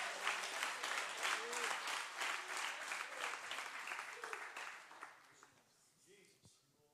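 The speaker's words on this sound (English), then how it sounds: "clap your hands" Congregation clapping in church during a guest preacher's sermon, a crowd's rhythmic, fairly loud clapping with voices calling out over it, tapering off as a speaker's voice takes over near the end.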